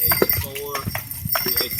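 Horses pull a carriage on a ride through Fountain Inn, South Carolina, with a few hoof clops and a short whinny-like cry under steady nearby talk.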